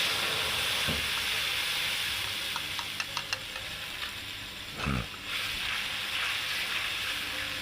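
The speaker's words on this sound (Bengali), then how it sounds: "এখন মশলাটা দিয়ে দেব, পেস্ট করা মশলাটা।" A spice paste of onion, ginger, garlic and tomato fries in oil over cumin, dried chilli and bay leaf, giving a steady close hiss with a few small pops and a brief thump of stirring partway through.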